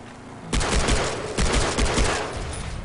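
Bursts of gunfire in the video game Far Cry 3, set on Rook Island: loud, dense volleys of rapid shots arriving in several waves over a couple of seconds, close and harsh, with no talking.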